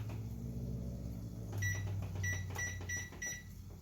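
Several short electronic beeps from a microwave sound in a quick series, following a soft whir of the running appliance; no talking.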